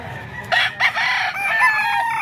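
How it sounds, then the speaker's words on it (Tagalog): A rooster crows once nearby, a clear, strained call with a rising then sustained tone lasting about two seconds, heard alone against a faint background. "Ito pa yung manok ni sir."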